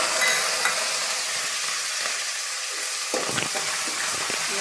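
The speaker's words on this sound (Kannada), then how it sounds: "ಕಡಲೆಬೇಳೆ ಬೇಳೆ ಹಾಕ್ತೀನಿ ಹಾಗೆಯೇ ಕಳ್ಳೆ ಬೀಜ ಹಾಕ್ತೀನಿ ಈಗ ಒಂದು ನಾಲ್ಕು ಒಣಮೆಣ್ಸಿನ್ಕಾಯಿ ಹಾಕ್ಕೊಳ್ತಾ ಇದ್ದೀನಿ" Chana dal, peanuts, dried red chillies and curry leaves frying in oil for mint rice, a continuous hiss of sizzling with a few stirring scrapes near the end.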